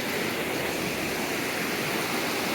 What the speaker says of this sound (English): I think the water is a bit more calm in here.